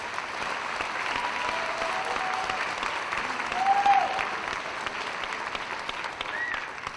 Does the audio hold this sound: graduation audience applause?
yes